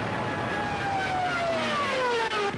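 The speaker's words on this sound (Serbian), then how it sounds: "nesnosnim zvukom zloglasnih aviona Štuka, tako dizajniranih da u obrušavanju dodatnom bukom dodatno izbezume" Stuka dive bombers drone overhead in a wartime air raid, a continuous loud engine roar with a descending whining tone sliding steadily downward as they dive.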